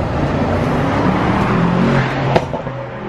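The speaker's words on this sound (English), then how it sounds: "I hate loud cars like that." A loud car roars along a downtown street at night, its engine rumbling and revving close by as it passes, with city noise around it.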